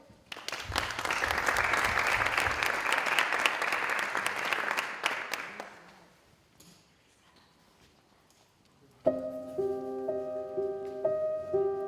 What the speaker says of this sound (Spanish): un fuerte aplauso para el último café.